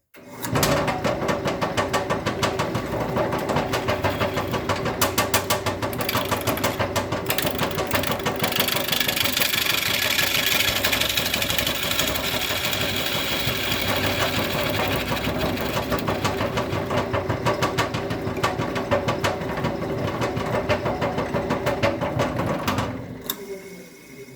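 A lathe spins an out-of-balance workpiece, giving a loud, continuous rapid rattling vibration with a dense mechanical drone that runs nearly the whole time, then stops abruptly at the end.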